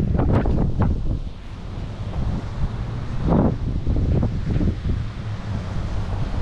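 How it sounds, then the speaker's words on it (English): Strong coastal wind at Redondo buffets the microphone in loud, continuous gusts, a low rumbling roar with rustling swells and a brief stronger blast midway, no voices present. "Not really too, kind of cold, but it's super windy."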